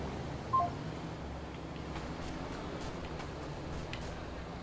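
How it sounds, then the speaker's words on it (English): A phone call hanging up in GTA V Online on PS4, marked by a single short electronic beep near the start, faint over a low, steady background hum, with no talking. "Yeah, okay, I'm hanging up."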